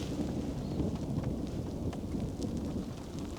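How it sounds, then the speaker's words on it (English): Low thunder rumbles on a rainy, windy Scottish coast, blending with steady rain and wind buffeting the microphone for a few seconds, with no talk. "That was thunder."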